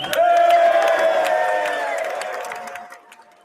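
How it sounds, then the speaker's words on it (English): A crowd at the State of the Union cheers and whoops loudly in a large chamber, a sustained roar with a held voice tone that fades away over a few seconds. "Sounds like 12 people cheering for Trump"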